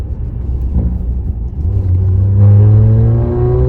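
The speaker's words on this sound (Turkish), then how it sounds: "Egzozu da dinletelim arkadaşlar." A modified Volkswagen Golf's engine (180 hp, full R conversion) idles, then revs up sharply toward 4000 rpm into a loud, sustained roar from the exhaust, rising in pitch and holding steady.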